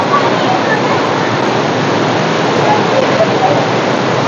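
A loud, steady rush of falling water fills the scene, a constant broadband roar of Athirappilly waterfall in Kerala with rain, close and unbroken.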